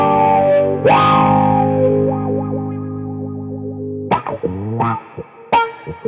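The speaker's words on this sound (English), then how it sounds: "Here is the exotic wah." Electric guitar through an exotic wah pedal, a loud sustained distorted chord sweeping bright then mellowing as the wah moves, followed by a few sharp picked notes with vocal-like swells.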